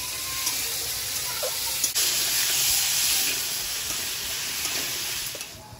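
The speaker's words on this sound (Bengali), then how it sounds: "এবার আলুটা দিয়ে দেবো, স্বাদ মতো লবণ, হলুদ গুঁড়ো। আলুটা ভালোভাবে ভেজে নেব।" Potatoes frying in oil with black cumin, salt and turmeric in a wok: a loud, steady hiss of sizzling oil that runs unbroken for several seconds, close up, fading slightly at the end.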